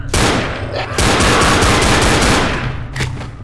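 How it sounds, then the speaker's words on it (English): Rapid gunfire in Left 4 Dead, a loud close burst of repeated shots in quick succession lasting a few seconds, with a brief pause and a final shot near the end. "Most of those shots missed, but somehow I still killed him."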